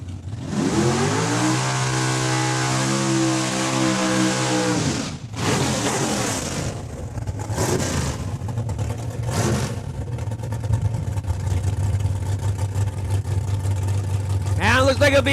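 A Chevy Camaro drag race car launches and accelerates down the quarter mile at a raceway, its engine revving high and shifting through gears before settling into a steady drone, with a voice talking over the engine.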